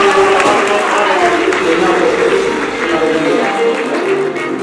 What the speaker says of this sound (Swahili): makofi tena